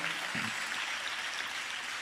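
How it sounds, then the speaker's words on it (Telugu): A church congregation claps together during a Telugu sermon, a dense, steady wash of many hands close by that fills the whole moment without pause. "చప్పట్లు కొడుతూ ప్రభుకి స్తోత్రాలు చెప్దాం"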